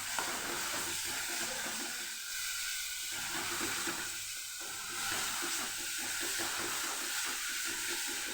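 Chikoo pulp, cooked down to a thick khoa-like mass, roasting in ghee in a pan for barfi, a soft continuous sizzle and bubbling hiss with gentle stirring scrapes, steady and fairly faint, with no talking.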